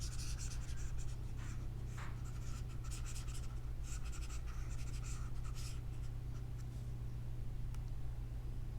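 An eraser rubs across a board during a maths lesson, a continuous scratchy back-and-forth scrubbing heard close up over a steady low hum.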